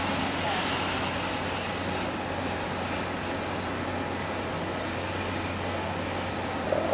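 An Austrian Airlines jet taxis at Hamburg Airport, its engines a steady broadband roar with a low hum that holds even throughout, heard from a spotting position with a person talking over it.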